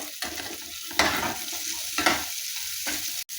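Chili powder and coriander-cumin powder are stirred into kankoda (spiny gourd) sabzi in a pan, giving a steady sizzle with a few scraping stirs about once a second, close and alone.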